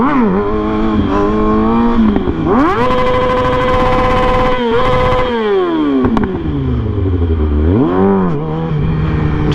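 A 600cc motorcycle revs repeatedly toward redline for a wheelie, its engine note climbing, dropping and surging again in loud, close, continuous sweeps with no voices.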